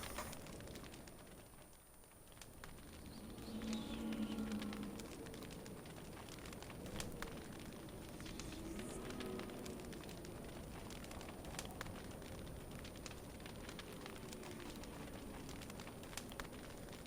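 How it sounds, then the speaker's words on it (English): Crackling campfire in the video game Don't Starve, a faint steady hiss with scattered small pops, heard alone at low level. "the campfire is so soothing to listen to"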